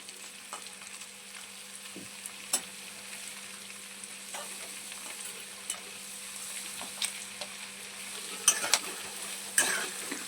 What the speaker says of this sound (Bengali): পনিরটা হালকা একটু ভাজা হয়ে গেছে, এর বেশি কিন্তু আমরা ভাজবো না।